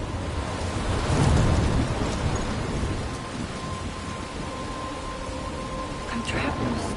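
A thunderstorm with steady, heavy rain hissing throughout, a deep rumble of thunder swelling near the start and fading, with a sharper crack toward the end. A voice murmurs faintly beneath the storm.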